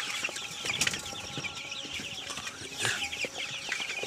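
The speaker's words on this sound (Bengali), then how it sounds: "এই যে মুরগি আমার" Chickens on a poultry farm cluck and chatter near and far, with scattered sharp calls and brief wing flaps over a busy background.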